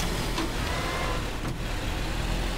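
A Lego car engine revs in the game Teardown, a steady mid-pitched motor drone running throughout at moderate loudness, with no talk over it.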